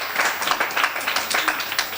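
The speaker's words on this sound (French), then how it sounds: "Applaudissez encore les enfants." Renewed applause for children at a Christmas dinner, many people clapping in a busy continuous patter at moderate volume, filling the room without speech on top.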